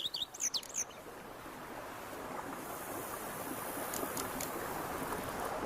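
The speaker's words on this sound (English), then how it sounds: "Bees buzzing, birds chirping." Birds chirp and tweet in The Witcher 3 video game, a few bright calls up front, then softer ones over a steady wash of ambient water or surf noise.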